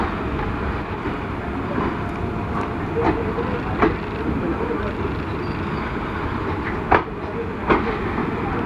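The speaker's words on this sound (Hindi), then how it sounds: "हमारी ट्रेन निकल चुकी है दुर्ग जंक्शन से 8 मिनट की डिले के साथ" The Itwari to Bilaspur Intercity superfast express rolls out of Durg Junction with a steady low rumble of wheels on rails. A few sharp clacks punctuate the noise, and a voice talks over it.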